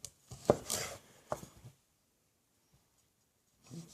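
A knife chops the top off a garlic bulb on a counter, a few sharp close cuts and scrapes, then silence before one more soft knock.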